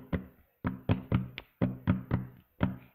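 Sharp hand claps land in a steady counted pattern, about eight crisp, close strikes spaced roughly evenly with brief silences between them and no talking.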